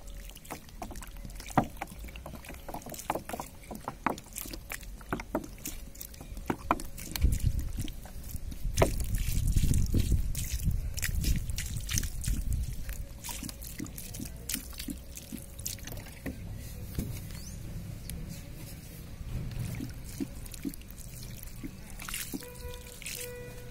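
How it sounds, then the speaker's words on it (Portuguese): Water poured from a container onto a freshly planted blackberry cutting outdoors, a steady splashing trickle that swells in the middle and then eases, with no talk over it. "Vou regar agora, jogar água."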